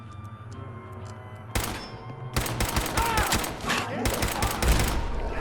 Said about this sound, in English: that explosion wasn't as big as I was expecting it to be